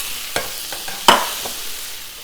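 Chopped tomatoes for a Veracruz sauce stirred in a hot sizzling pan, a steady frying hiss broken by a few scraping strokes of the utensil, close up.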